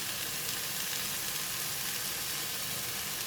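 Light soy sauce hits a hot wok during a glass noodle and shiitake mushroom stir-fry, producing a steady, loud, continuous sizzle that fills the whole stretch without pause or talk.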